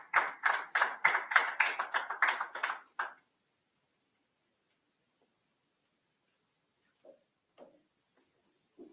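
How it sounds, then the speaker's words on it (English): A small audience at a regulation conference session claps briefly and crisply for about three seconds, then silence follows with a couple of faint knocks or taps. "let's give Silvarani a round of applause as she comes to the podium."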